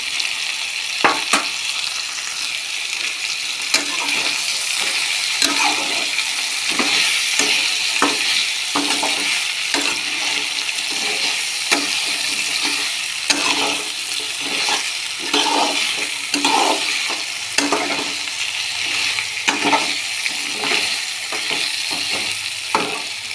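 Spices with turmeric sautéing in oil, a sustained close sizzle broken by frequent scraping stirs and clattering taps of a spoon against the pan.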